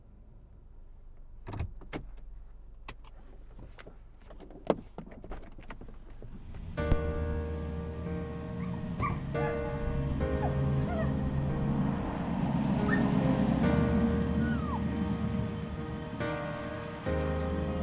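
A small tan chihuahua whimpers and yips amid a car interior, first scattered sharp sounds, then a steady engine-like hum and higher whining squeaks over the rest, with a brief spoken word.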